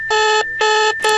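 Honduras's emergency alert system alarm blares as three loud, evenly spaced electronic tone bursts, each a bright harmonic buzz lasting about a third of a second with brief gaps between.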